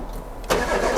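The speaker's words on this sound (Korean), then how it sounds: "시동 한번 걸어볼게요." A diesel imported car with about 150,000 km on it starting up: quiet low hum, then at mid-clip the engine catches with a loud burst that settles into a rough, steady running rumble, with no voices.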